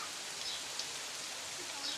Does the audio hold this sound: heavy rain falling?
yes